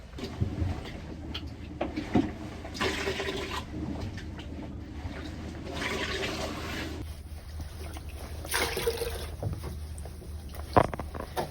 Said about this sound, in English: So I'm now here with a bucket and trying to just sponge it up so that it's slightly less waterlogged.